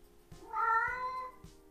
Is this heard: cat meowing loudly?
yes